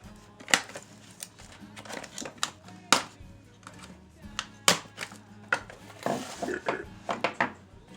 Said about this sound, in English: Get the trusty metal shears. Cut through almost anything.